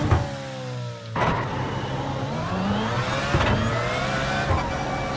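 A race car engine in the iRacing video game revs hard and repeatedly, with rising and falling whines and sharp bursts, loud and close, no talking.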